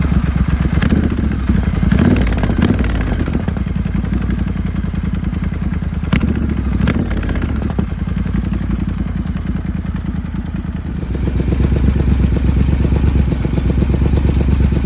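A Triumph Bobber motorcycle (2023) runs close by with a deep, throbbing exhaust note from flapper valves, rising and falling with throttle blips, accompanied by occasional mechanical clatter.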